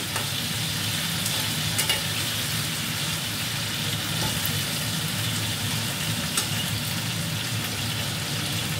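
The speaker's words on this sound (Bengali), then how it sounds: "আলুটা ভেজে নিই ভালো করে।" Diced potatoes fry in oil in a pan with a continuous, even sizzle and occasional stirring scrapes, close and steady for nearly nine seconds with no talking.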